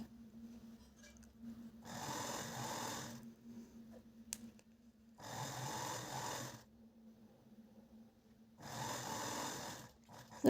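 A sewing machine stitches a petticoat drawstring in three steady runs of whirring, each about a second and a half long, separated by quiet pauses with a faint hum.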